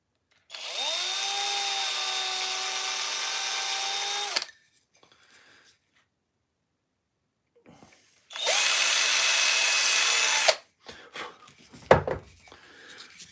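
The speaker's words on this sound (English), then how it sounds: "I'm going to just drill that through a little bit there" Two loud bursts of a power drill boring through carved wood, each running steadily for several seconds with a gap between, followed by a few close handling knocks and clatters.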